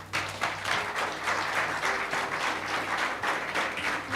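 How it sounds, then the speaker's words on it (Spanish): A church congregation claps together in dense, sustained applause that stays fairly even and full for the whole few seconds, with no voices standing out above it. "Dale un aplauso al Señor."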